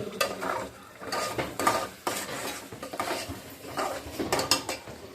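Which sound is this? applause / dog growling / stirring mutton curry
stirring mutton curry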